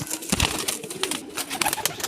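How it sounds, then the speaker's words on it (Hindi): A golden high-flying pigeon coos close by in a few soft, low bursts, mixed with light rustling and faint flutters and no voices. "ये है मेरे भाई वो गोल्डन कबूतर जो मैं आपको वीडियो में दिखा रहा था।"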